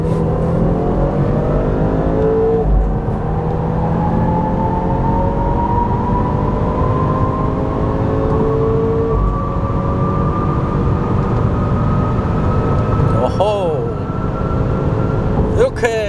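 A BMW 530i xDrive M Sport accelerates at full throttle in S mode, engine note climbing steadily through the gears as a muted cabin drone, with someone speaking over it.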